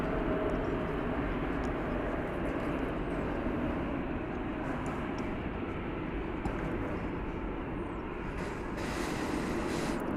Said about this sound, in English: Approaching the starting gate is American Flight 2270 at 737-800 going to Omaha, Nebraska.